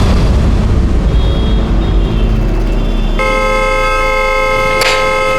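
A car horn blares continuously and loudly, a steady sustained honk over rumbling engine and street noise, with a brief burst near the end.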